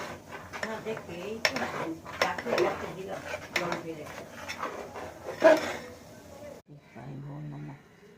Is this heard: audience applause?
no